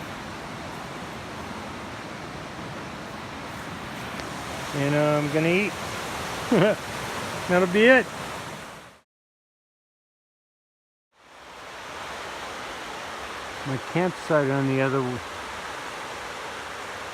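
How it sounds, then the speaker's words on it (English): Laurel Creek flows steadily past a campsite as a continuous broadband rush, with someone talking over it at intervals, and a brief cut to silence partway through. "This beautiful campsite right next to Laurel Creek, which is really flowing."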